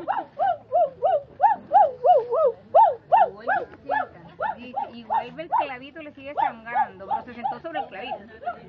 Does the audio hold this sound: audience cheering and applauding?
no